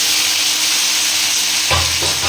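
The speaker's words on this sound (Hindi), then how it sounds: "चलिए इसमें तड़का डाल देते हैं" A tadka of mustard seed, cumin, carom and dried chilli sizzles in hot oil on an induction cooktop for bhindi masala, a loud, steady hiss close by that briefly drops as it is stirred.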